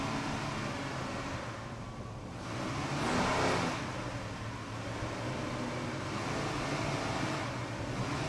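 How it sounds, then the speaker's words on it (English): A 38-foot Fountain racing boat powered by twin 500-horsepower Mercury inboard engines drones steadily, swelling louder for a moment as it passes, then settling back to a constant distant roar. "38-foot fountain, Mercury powered, 2 500-horsepower inboards."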